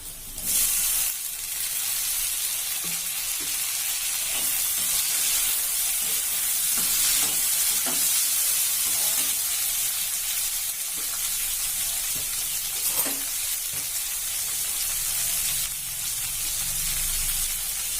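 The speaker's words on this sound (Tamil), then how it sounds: "வெங்காயம் கொஞ்சம் வதங்கிட்டு தக்காளி போட்டுக்கலாம்" Onions sauté in a pan for a potato and pea masala, giving a steady, close hiss of frying that stays even throughout, broken by occasional faint scraping stirs.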